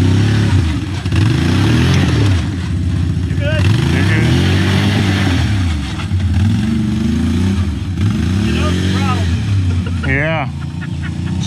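An ATV engine drones loudly and steadily, its pitch rising and falling in repeated swells as the throttle is worked, with a few brief high squeaks near the end.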